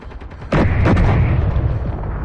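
A powerful booming shot in a video game firefight against drones, with a quick follow-up crack and a long rolling rumble after quieter crackling before it.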